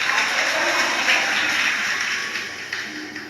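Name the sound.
audience applauding loudly at a Shiv Mahapuran katha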